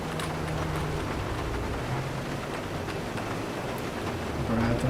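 Steady rain falls and patters on a surface. The hiss is continuous and fairly loud, with low engine-like rumble underneath and no speech.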